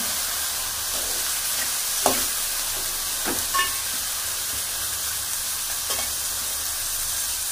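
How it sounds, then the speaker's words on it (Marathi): Finely chopped onions, four of them, frying in a pan for vegetable pulao, giving a continuous close sizzle and hiss with a few sharp clicks of a spatula against the pan, no talking. "कांदे व्यवस्थित परतून घेणार"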